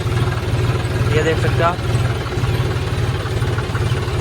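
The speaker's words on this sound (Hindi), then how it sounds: "ये देख सकते हो मेरा ट्रैक्टर भी फाइनली निकल रहा है" A John Deere 5050D or Mahindra 585 tractor engine chugs with a steady low diesel throb as it drives out near a river, close and continuous beneath someone talking.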